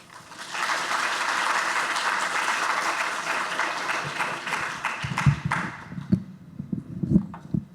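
Sustained applause from an audience greeting Dr. Doug Tallamy, a talk on nature and habitats, dense and steady for about five seconds before thinning into scattered claps and stray noises.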